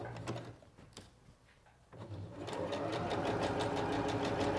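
A Singer Professional 9100 sewing machine stitches fabric, with a few intermittent mechanical clicks at first and then a steady, fast, rhythmic whirring run of stitching up close.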